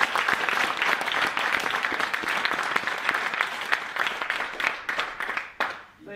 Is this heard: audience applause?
yes